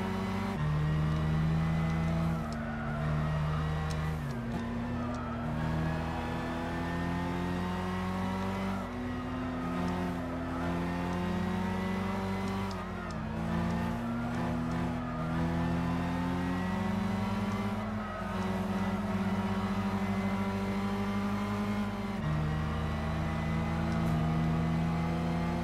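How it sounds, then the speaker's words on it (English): Mazda RX-7 race cars in a Gran Turismo 6 Super GT300 championship race roar continuously and close, their engine notes rising and falling through repeated gear changes with no talk. "Got RX-7s coming past here."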